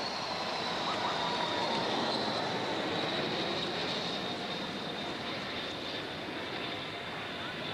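A military transport aircraft passing over London in a victory flypast makes a broad, steady engine roar that holds loud throughout, overhead and sustained.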